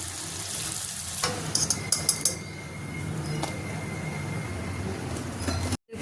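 Golgappa puris fry in oil with a continuous soft sizzle, broken by a few clinks and scrapes of a utensil near the start.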